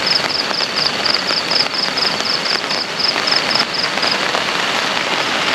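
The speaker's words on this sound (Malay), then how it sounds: "Itu hujan lagi. Dia start hujan balik dah." Steady, heavy rain drumming on a surface, a constant dense hiss throughout, with a faint, regular high chirping pulsing along in the background.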